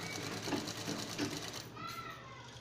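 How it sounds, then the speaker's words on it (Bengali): Sewing machine stitching a baby frock, a quiet, rapid rhythmic whirring of the needle mechanism that slows and stops near the end. "আমি এইভাবে গোটাটাই সেলাই করে নেব"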